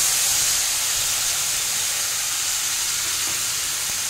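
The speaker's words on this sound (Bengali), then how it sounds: "তেলটা আমার ভালো মতো গরম হয়ে গেছে, আমি বাটা মশলাটা প্রথমে দিয়ে দিচ্ছি।" Ground spice paste hitting hot oil in a pan, a steady, close, loud sizzling hiss held throughout with no talking.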